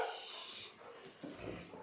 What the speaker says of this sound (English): you can't tell him off for barking when you're barking yourself